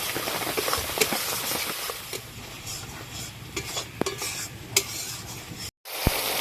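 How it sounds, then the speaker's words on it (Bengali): Ground spice paste mixed with peanut paste frying in a pan, a steady hissing sizzle with scattered clinks and scrapes of a stirring spoon, close up, a brief dropout near the end, no voices. "এবার এই বাটা মশলাগুলো একটু ভালো করে কষে নিতে হবে।"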